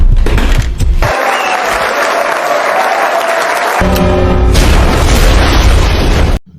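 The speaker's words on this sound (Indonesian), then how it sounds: "tepat jam 12 malam, bom waktu yang Gio siapkan pun akhirnya meledak" A time bomb goes off in a film scene as a heavy boom, then a sustained roar of blast and debris, with a second loud burst before the sound cuts off abruptly.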